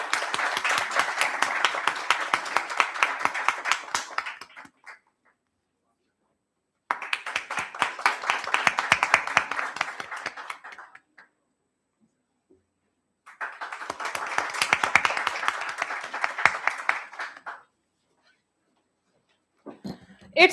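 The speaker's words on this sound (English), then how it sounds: "Have a huge round of applause." Audience applause at a national seminar on economic challenges and opportunities in the age of AI: three sustained bursts of clapping, each lasting about four seconds and separated by short silences, with a final burst starting at the end.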